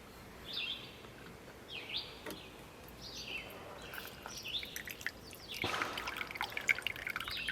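Lime juice is poured for a keto lemon drop cocktail, giving a soft, brief liquid trickle with light drips, faint and close, alongside small chirpy background sounds.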